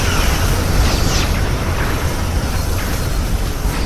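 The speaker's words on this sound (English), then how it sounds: "Borg vessel destroyed." Borg vessel exploding in the space game Star Trek Legacy, a loud, sustained roaring blast with heavy low rumble that fills the whole moment without letting up.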